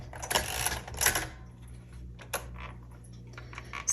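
Keys struck on a 1964 Royal Safari manual typewriter, two dense bursts of clacking typing up close followed by a few scattered single key strikes, heard alone without talk.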